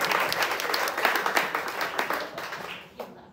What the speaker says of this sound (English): let's clap it up for your next contestant, Domo, everybody.